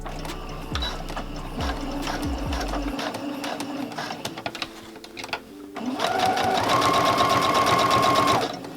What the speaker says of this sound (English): let's go ahead and go to the sewing machine